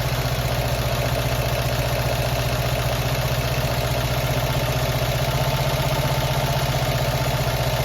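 A classic Fiat 500 engine idles steadily during an idle adjustment, giving a continuous, even low rumble with a fast, regular pulse, close and loud with no change throughout.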